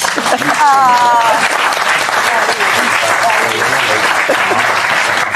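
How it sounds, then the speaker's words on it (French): A comedy show audience bursts into loud, sustained applause that fills the whole stretch, with a voice briefly rising above the clapping near the start. "Vous applaudissez qui, là?"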